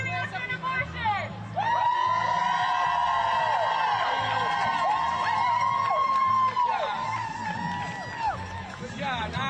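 A crowd of protesters at an abortion rights rally cheering and whooping loudly in a sustained burst of several seconds, with shouting voices and babble around it.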